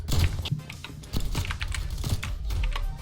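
Computer keyboard keys are pressed in rapid, uneven bursts of close clicks during a Call of Duty Cold War match, with low game or room rumble underneath.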